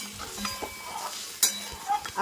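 Chutney being stirred in a pan after water is added, soft scraping strokes and a light bubbling sizzle, with a sharper clink near the middle, fairly quiet throughout.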